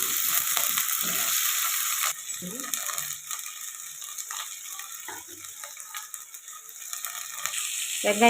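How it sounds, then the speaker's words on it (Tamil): Cinnamon, cloves and onion fry in hot oil, giving a constant bright sizzle that drops back after a couple of seconds, close by, with occasional stirring clinks and faint talk. "கொஞ்சமாக பட்டை லவங்கம் இதெல்லாம் போட்டுக்கலாம் வெங்காயம்"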